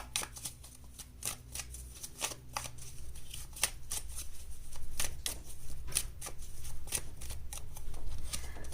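Tarot cards are shuffled by hand during a card reading, a close, quiet run of crisp riffling flicks and soft slaps in an irregular rhythm, with no talking.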